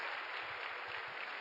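A church congregation claps during a Sunday service, an even continuous wash of many hands applauding together, fairly loud and unbroken for the whole moment.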